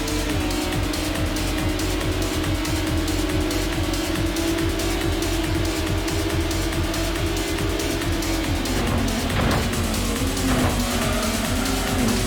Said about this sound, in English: Car with the same spec is about to pass me.